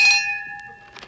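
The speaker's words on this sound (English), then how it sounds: "Don't pull that bell so hard." A pulled doorbell at a duchess's estate gives one clear bright ring that decays slowly over a second, followed by faint clicks and knocks.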